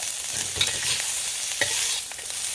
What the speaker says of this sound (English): Now we gotta just stir these up. Get the onion caramelized on that end.